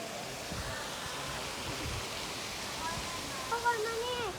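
A waterfall on a cave outing in Laos, heard as a steady broadband rush of falling water with voices talking over it and a few brief tonal chirps near the end.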